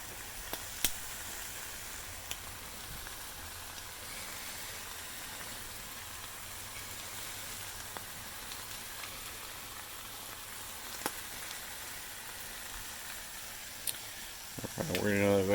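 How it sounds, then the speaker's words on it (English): Buttered toast sizzles on a flat-top griddle with a steady, low hiss and a few faint clicks, ending in a brief louder scrape. "We're going to go ahead and put down our toast. We want to get that going and get that all buttered up."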